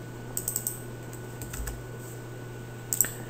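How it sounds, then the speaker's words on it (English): Light keystrokes on a computer keyboard typing a username into an SAP ERP login screen, a few soft clicks in small clusters over a low steady hum. "And then type in the username I emailed to you."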